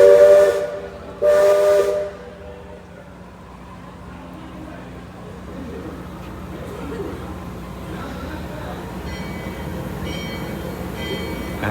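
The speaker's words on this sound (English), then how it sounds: "Magic Kingdom will be different without this whistle and this bell." The Liberty Belle riverboat's steam whistle gives two loud, steady blasts, the second longer, then fades into a hissing, rumbling background of the moving paddle steamer.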